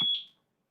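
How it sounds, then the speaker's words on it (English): A single short, shrill electronic beep from a reversing bus's warning signal rings out clearly and fades quickly into silence. "that was my bus. My bus was reversing."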